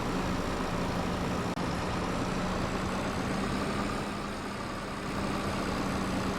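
A small tractor engine in a farming game runs steadily, a constant low droning rumble with a faint hum, close and unbroken apart from one brief click.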